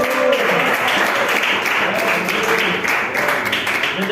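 A church congregation claps together during a worship service, a steady loud wash of hands filling the room for a few seconds with no clear pauses.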